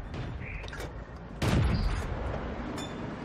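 Tank cannon fire in World of Tanks at low tier: a heavy booming shot mid-clip over constant engine and battle rumble, with small ricochet pings and sharper cracks scattered around it.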